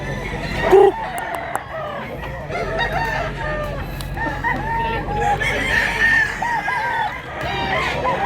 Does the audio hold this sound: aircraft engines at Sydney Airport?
no